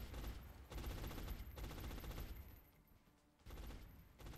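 Sustained, dense suppressive gunfire from soldiers in the turn-based strategy game XCOM, in loud rapid bursts that fill the scene with brief dips between volleys.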